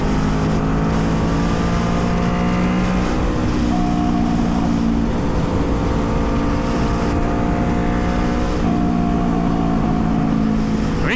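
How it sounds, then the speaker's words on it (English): Steady, loud engine drone of traffic heading south on a Texas road, with vehicles passing close by one after another in a continuous rushing roar. "Looks like it's going south, all that traffic."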